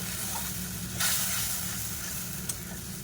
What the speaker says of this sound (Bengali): লঙ্কা হলুদ জিরে গুঁড়ো আরও অল্প কিছুটা জল দিয়ে দেবে মশলাটাকে আমি ভালো করে কষিয়ে নেব